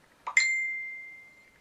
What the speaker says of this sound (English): that's my phone pinging away